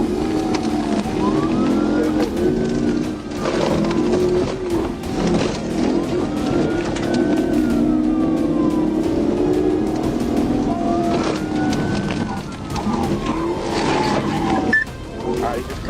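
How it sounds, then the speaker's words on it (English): A police car siren wails in repeated rising and falling sweeps during a high-speed pursuit, loud and close over engine and road noise, with people talking throughout. "With lights and sirens engaged, the suspect sped off"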